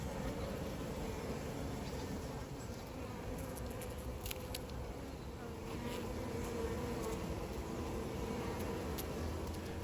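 Honey bees buzzing inside a hive, a dense, continuous, faint drone of many insects with no gaps, heard alone.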